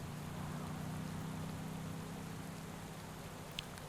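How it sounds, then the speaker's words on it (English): Steady rain pours down during a road race descent in the cycling game Pro Cycling Manager 2021, a constant even hiss with a low hum beneath and one faint tick near the end. "It is raining."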